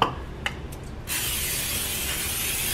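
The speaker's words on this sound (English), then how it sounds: "I do want to spray my pan." Cooking spray hisses onto a pan after a few light clicks and handling noises, a single steady close spray that runs on continuously in a kitchen.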